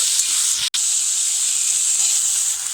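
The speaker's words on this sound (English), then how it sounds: "Add minced cauliflower stalks to the sauce and saute it well" Capsicum and minced cauliflower stalks sautéing in sauce for Gobi Manchurian give a loud, constant close hiss of steam and sizzle, broken by a brief cutout, with no voices.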